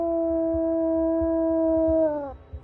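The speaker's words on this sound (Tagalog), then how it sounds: "nagsimula na namang umalulong ang mga aso" Dogs howling at night in the Philippines, a long sustained tonal howl with steady pitch that slides downward and fades at the end, over faint low rhythmic background sounds.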